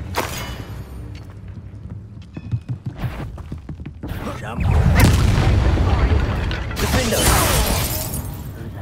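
Fire spell being cast during combat in the Hogwarts Legacy video game: heavy booming blasts and crackling, shattering bursts with deep rumbling impacts, loud and layered with game sound effects, mixed with voices.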